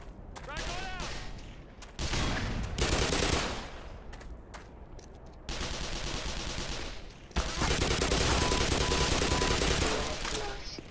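Video game gunfire rattles in long, loud bursts of rapid automatic shots that stop and start again several times, and a voice talks over the firing.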